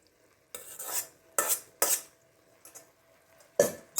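Zucchini and shrimp with seasoning stirred in a pan, making repeated scraping, clattering stirs in uneven bursts over a faint sizzle, with quiet gaps between strokes and no talk.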